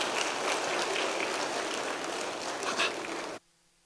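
An audience at an economic reform address by the Central Bank of Nigeria governor applauds in a steady, fairly loud wash of clapping that stops abruptly just before the end.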